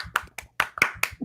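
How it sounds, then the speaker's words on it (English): Hands clap in a quick, uneven burst of about seven sharp claps, close and distinct, with no talk over them. "Applause. Okay, we can do applause too."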